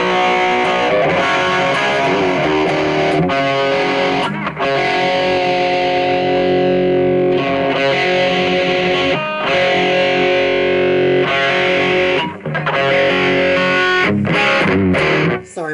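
An electric guitar runs through BOSS distortion with delay and reverb, dialed toward a 1970s tone: loud, sustained overdriven chords and notes ring out alone, separated by a few short breaks.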